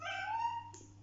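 A pet cat gives one drawn-out meow, rising and then falling in pitch, close by and clear, with a faint steady hum underneath and no talking.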